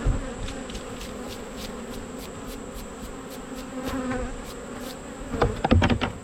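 Honey bees buzz steadily around an open hive in a dense, close drone during honey frame removal, with a few soft knocks and clicks toward the end and no talking.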